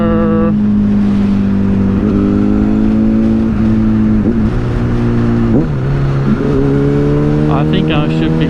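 A motorcycle engine in second gear drones steadily while riding, its loud hum dipping and rising in pitch through several brief throttle changes under constant wind noise, with a rider talking intermittently.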